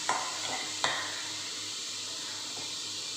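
A spoon stirring telaga pindi pappu in a frying pan, with a couple of sharp scraping knocks against the pan over a soft steady sizzle, close and alone.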